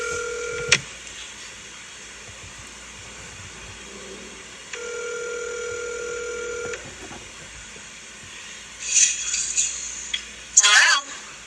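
A telephone number is dialed, heard as a few distinct key tones and a longer steady tone, followed by louder clattering handling noises near the end.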